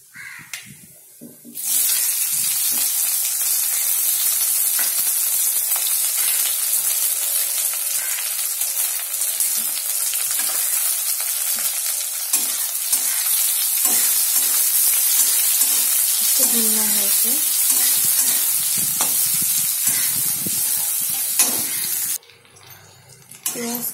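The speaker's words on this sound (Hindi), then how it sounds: "प्याज को जब तक भूनेंगे जब तक कि ये गोल्डन ब्राउन कलर ना हो जाए" Sliced onions fry in a pan toward golden brown, giving a loud, steady sizzling hiss that begins after a brief quiet moment, runs unbroken for about twenty seconds, then drops off near the end.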